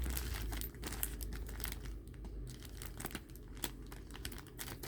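Wrapping crinkles and crackles while a Dooney & Bourke Florentine leather handbag is unboxed from tight packaging, close and fairly quiet, in irregular bursts with sharp snaps.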